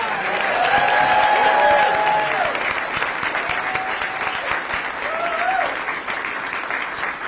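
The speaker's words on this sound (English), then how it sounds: "Join me in giving our amazing Carmen Southeast Mariachi another round of applause." Audience applause at a school groundbreaking ceremony for a mariachi band, a sustained crowd clapping that peaks early then eases, with faint voices and brief whistles or cheers mixed in.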